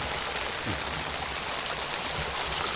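A continuous wash of stream water flowing down from a mountain at Phu Wiang, steady and fairly soft, with no voices.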